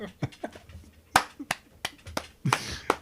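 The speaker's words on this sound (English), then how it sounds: "Golf clap." A sparse golf clap, a handful of soft, separate hand claps with uneven gaps, close and quiet.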